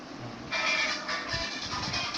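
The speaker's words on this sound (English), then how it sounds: "this was the sound of the Nokia Lumia 630." Music plays from the rear-facing speaker of a Nokia Lumia 630 smartphone, a thin, bright sound with little bass that starts abruptly and then carries on at a steady level, with no talking.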